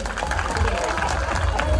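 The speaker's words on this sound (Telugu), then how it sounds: "చప్పట్లు కొట్టండి అందరూ" An audience claps together at a Christmas church program, a steady continuous patter of many hands close by with crowd noise and voices underneath.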